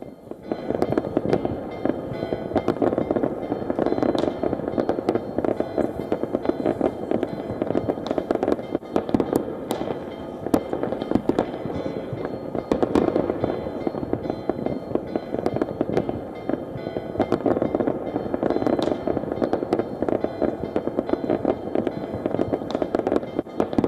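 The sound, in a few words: New Year fireworks over the Acropolis in Athens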